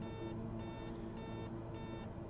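Repeated electronic landing gear warning beeps in a King Air in Microsoft Flight Simulator, four short pulses over a constant engine hum in the cockpit, no voices.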